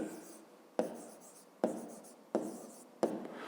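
Chalk or pen writing out a fifth-grade math solution on a board: four sharp strokes, each starting with a tap and trailing off, close and fairly quiet.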